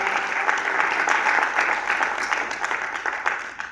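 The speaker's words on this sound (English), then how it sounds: "Let's give them a house of applause." A church congregation applauding the worship team, a steady, moderately loud patter of many hands clapping that tapers slightly near the end.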